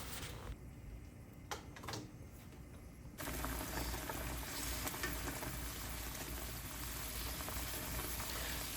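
Pieces cooking in liquid in a pan and being turned, a quiet stretch with a few clicks and knocks before the sizzle jumps to a steady, louder bubbling hiss once the lid comes off.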